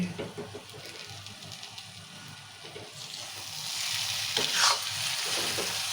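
A pan of tomato and drumstick curry with coconut powder is stirred near the end of cooking, a steady soft sizzle with scraping stirs that grows louder and brighter toward the end, no voices.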